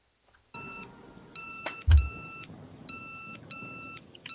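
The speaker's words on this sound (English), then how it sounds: "That's a pager, right? Beep, beep!" A pager in a dubbed anime series gives an electronic beep-beep alarm, with short paired tones repeating steadily and fairly loud, plus a brief thump partway through.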